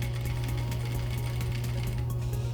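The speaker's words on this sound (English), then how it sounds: "now we take this line of stitching all the way down to the end of the pocket" Sewing machine stitching a patch pocket down to its corner, a close, continuous fast motor hum with rapid even needle clatter at constant speed throughout, with no voices.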